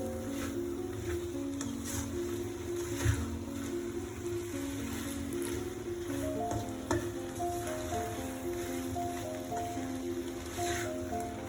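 Cooked prawns stirred in a hot pan for prawn curry, giving a soft, steady sizzle with faint scraping, quiet under a constant humming tonal background.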